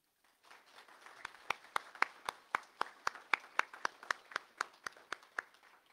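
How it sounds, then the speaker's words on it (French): Applause at a swearing-in ceremony for municipal councillors, starting as a sparse scattering of claps and settling into a steady, fairly quiet patter of individual hand claps, each one sharp and distinct, with no voices. "je vous inviterai à leur donner une bonne main d'applaudissements"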